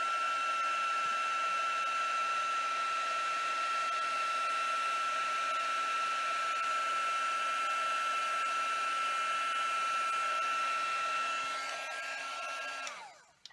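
An embossing heat tool warms black embossing powder on a card held down with tweezers, giving a steady, loud, close blowing whir with a constant whine that holds for about twelve seconds before cutting off.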